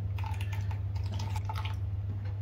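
Spring water pours into a bowl on a kitchen scale while sourdough pizza dough is being measured out: a soft, steady trickle with light splashes over a constant low hum.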